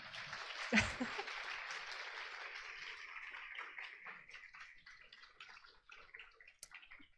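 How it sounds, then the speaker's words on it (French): Audience applause for Célia Audin at a talk on video games: a soft, steady wash of clapping that begins with a sharp thump and continues for several seconds, fairly distant and quiet. "un tonnerre ouais. d'applaudissements pour Célia Audin, s'il vous plaît"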